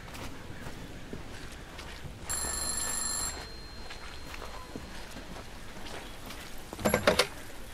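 A telephone rings inside a horror game, a steady electronic ring for about one second that is moderately loud against a dim, rumbling ambient backdrop, followed by a short burst of brighter clatter near the end.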